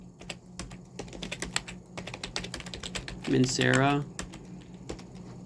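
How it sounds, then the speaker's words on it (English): Computer keyboard typing as a fragrance name is entered, quick close key taps in an uneven rhythm, briefly interrupted by a short spoken word. "So let's type in Instant Crush."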